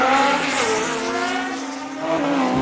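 Motorbikes racing at the Isle of Man TT, a loud high-revving engine note climbing and falling in pitch as machines scream past close by, with no talk.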